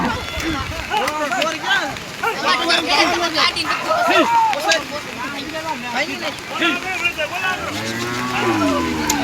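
Cows and buffaloes moo loudly and repeatedly, several animals calling over one another, with people talking in the background.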